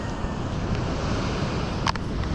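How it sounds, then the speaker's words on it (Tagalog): Ocean waves wash onto a rubbish-strewn shore, a steady broadband roar of surf mixed with wind buffeting the microphone, with a brief sharper splash near the end and no talking. "dala ng alon niya yung mga basurang yan."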